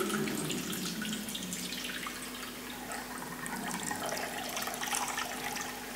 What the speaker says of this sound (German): Schönes Gefühl, wenn Wasser so plätschert.